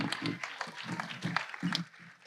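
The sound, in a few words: round of applause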